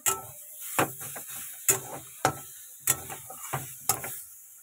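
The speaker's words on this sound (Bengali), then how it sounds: "এই দেখো একইভাবে আমি এটাকেও বেটে নেবো, এই ধনে পাতাটাকে।" Repeated sharp pounding strikes at an uneven rhythm, close by, as coriander leaves are ground with a stone, with scraping in between.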